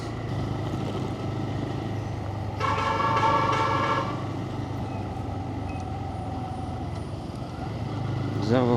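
Vehicle horns honk on a road near Dhom Dam in Wai, Maharashtra, with a truck alongside during a motorbike ride. One loud blast of about a second and a half rises over steady engine and road rumble.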